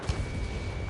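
An armored personnel carrier blows up in the combat flight game Ace Combat 7, a dense, rumbling explosion that roars steadily for about a second, with no voices over it.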